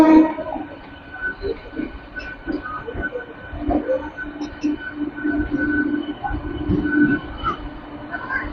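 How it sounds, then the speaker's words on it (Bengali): The Jammu Tawi Howrah Express rumbles along the rails with a steady, medium-loud drone and a sustained tonal hum, heard close and continuous throughout, with faint voices at times. "জাম্মুতাড়ি হাওড়া এক্সপ্রেস।"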